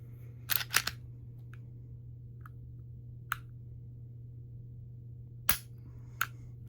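An unloaded M&P Shield 9mm pistol being dry fired: a couple of crisp mechanical clicks close together, then scattered fainter ticks and one more sharp snap against a steady low hum.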